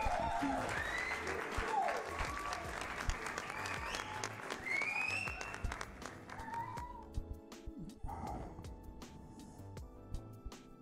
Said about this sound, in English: Yeah, let's give Ady another round of applause.